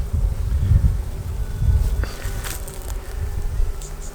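Honey bees are busy building out wax comb in a hive, making a dense, close, continuous buzzing hum with some rustling and handling noise and no talking.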